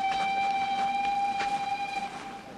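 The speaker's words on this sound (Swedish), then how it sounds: "Tåget kommer!" A train draws near with a long, steady horn or whistle tone over a low rumble of rolling rail cars, loud at first and easing off slightly, no talk.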